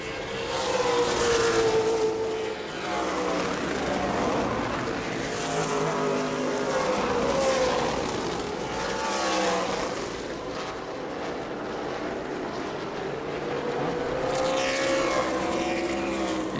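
Several ASA Stars National Tour race car engines roar past one after another at a distance during practice at New Smyrna, a steady droning whine with passes swelling and fading in waves.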